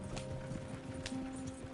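Horses gallop in the video game Red Dead Redemption 2, a rapid drumming of hooves with wheels and tack rattling, mixed with game ambience.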